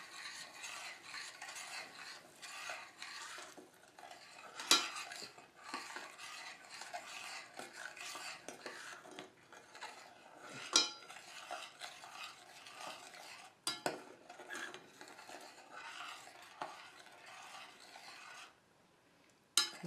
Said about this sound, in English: stir this all in